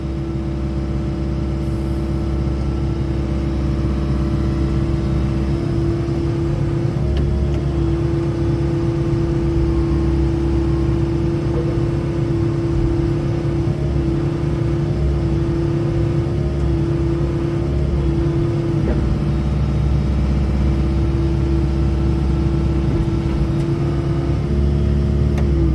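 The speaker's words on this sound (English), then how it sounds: "Engine runs nice." A heavy machine's engine idles at an auction yard, a loud, steady mid-pitched drone with a constant hum running unbroken throughout.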